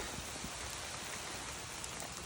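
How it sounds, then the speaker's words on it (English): Steady rain falls outdoors, a soft, even hiss of drops spread across the whole clip at low volume, with no voices. "It's raining,"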